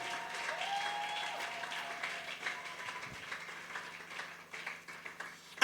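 Church congregation applauding and cheering for a sustained stretch, dense clapping filling the room at moderate loudness with scattered voices rising above it.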